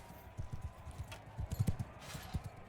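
Horse hooves clatter in the video game Mount & Blade II: Bannerlord, a run of quick, irregular low thuds at moderate loudness with no talk over them.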